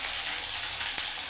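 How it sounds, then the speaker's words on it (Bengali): Bata fish sizzles in a pan with onion, chili and nut paste, a soft, even frying hiss with a faint stirring scrape near the end, heard alone. "যে কোনো মাছ এইভাবে ভাজবে, একটু বাদাম দিয়ে সরষে দিয়ে"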